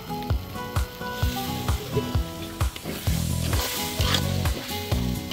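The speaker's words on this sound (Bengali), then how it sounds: "একটু নেড়ে চেড়ে ভালো করে ভেজে নিতে হবে।" Tripe coated in turmeric, coriander and ground spices sizzles loudly in a pan. A utensil scrapes and clanks in a steady, repeated stirring rhythm, close up and with no voices.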